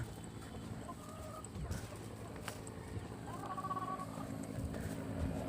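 Chickens cluck softly nearby over a quiet outdoor background, with a few short calls scattered through.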